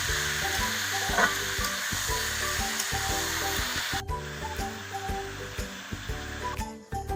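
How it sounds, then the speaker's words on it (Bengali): Steady loud sizzling of free-range country chicken frying in a hot wok, with a continuous hiss and background music playing throughout. "কেটে সুন্দর করে ধুয়ে রাখা দেশি মুরগির মাংসগুলো এখন কড়াইয়ে দিয়ে দেওয়া হলো।"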